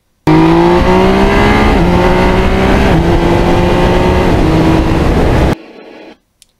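Yamaha MT-09 2020 crossplane triple motorcycle engine revving hard while riding on open roads, a loud sustained throaty drone with rising pitch sweeps through gear changes, cutting off abruptly near the end.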